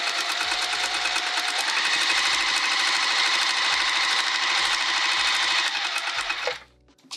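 A sewing machine runs at high speed, basting the outer edges of quilted fabric for a witchy hat with a loud, rapid, steady mechanical chatter, briefly easing off between passes. It stops abruptly near the end.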